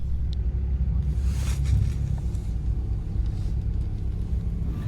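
A VW Golf Mk2 driving on the way to a car show, a steady low engine rumble and road noise from inside or near the car, with brief brighter swells of passing traffic.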